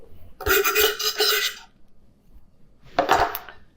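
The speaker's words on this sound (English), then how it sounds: "you just wanna finely chop the dill. So I'm just gonna go ahead and just chop it." A knife finely chops dill on a board in two short bursts of rapid clattering strokes separated by a brief pause, close and fairly loud.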